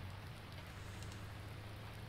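Steady rain patters across the fields of Farming Simulator 19, a dense, even hiss of drops on surfaces with a low rumble underneath, continuous and moderately quiet throughout.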